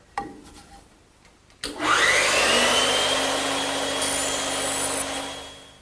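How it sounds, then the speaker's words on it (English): A bandsaw cuts away wood to shape a tenon for a garden bench. After a few faint knocks, a loud, steady whine starts up abruptly and carries on close by to near the end. "I could use a hand saw to remove the material, but the bandsaw is just quicker"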